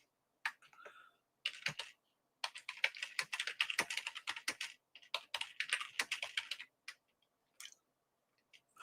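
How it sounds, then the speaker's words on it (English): Someone types on a computer keyboard close up, slow irregular bursts of key clicks with short pauses, quiet and without speech. "Let me keep that going while I type in this. I'm pretty slow when it comes to typing"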